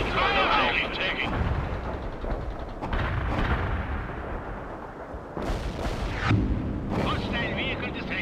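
Bomb explosions in the video game World in Conflict, several heavy rumbling blasts spread across the clip with crackling debris and a continuous battle din, with voices talking intermittently over the noise.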